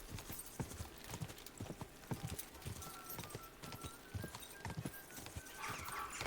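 A horse gallops with fast, steady clip-clopping hooves over a constant rush of wind or movement noise. A brief whinny-like sound comes near the end.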